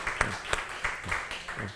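Members of a church congregation clap to welcome a guest during a service. The claps are faint and sparse, coming in a loose, rhythmic run of separate hand strikes.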